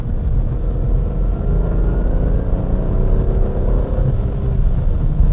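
A Nissan GT-R cruising after dropping down a couple of gears, its engine a steady low rumble and whir heard from inside the car, constant and fairly loud with no speech.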